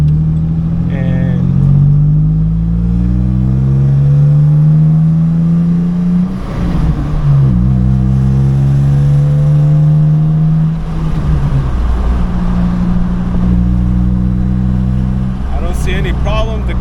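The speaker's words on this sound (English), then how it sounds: "It is very loud for an Xterra." A Nissan Xterra with a modified aftermarket exhaust drones loudly while driving, its deep engine note rising and falling through gear changes, close and constant, with someone talking over it.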